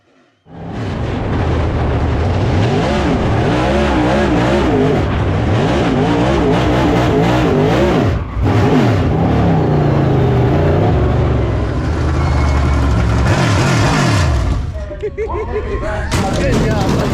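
A dirt track race car at All-Tech Raceway roars loudly and steadily, its engine wavering up and down through a donut for about fourteen seconds before easing off, with crowd noise and voices mixed in.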